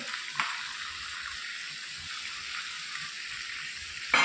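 Chicken tikka pieces fry in a pan with a steady, close hiss of sizzling oil, a brief scrape near the start and another stirring clatter at the end.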